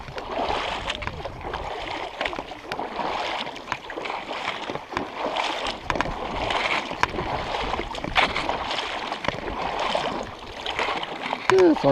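Hikers in water shoes wade through a shallow, clear, shin-deep lake, their steps making steady close sloshing and splashing, with voices talking at moments.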